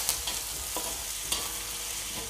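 Fish balls and potato sautéing in a pan for ikan kicap, giving a soft, steady sizzle with a few light stirring scrapes and clinks, fairly quiet throughout.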